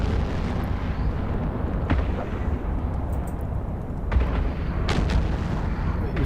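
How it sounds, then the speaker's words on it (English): A ship in the space game EVE Online fires missiles, a dense rumbling barrage of booms and bursts running continuously, loud and close, with a few sharper launches standing out. "That's why he's shooting missiles."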